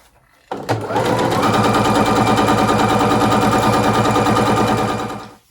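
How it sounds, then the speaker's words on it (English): A sewing machine stitching fabric strips, dark orange and white, together with a 1/4 inch seam, running in one loud, continuous, rapid chatter for about five seconds before winding down. "I'm just going to sew with a 1/4 inch seam"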